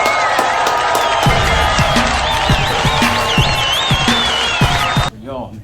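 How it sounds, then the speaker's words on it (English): A round of applause and cheering from a crowd, dense continuous clapping with whistles over it, fairly loud and close, cutting off abruptly near the end. "let's give everybody a round of applause"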